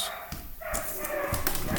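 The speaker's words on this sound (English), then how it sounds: "the dog's getting a little bit too excited" An excited dog barks in short, repeated yips over a low room hum, fairly near and moderately loud, without any clear speech.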